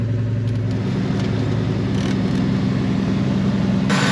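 A 1999 Ford Mustang Cobra runs with its air conditioning switched on, giving a steady, close engine rumble and whirring hum that holds evenly throughout with no speech.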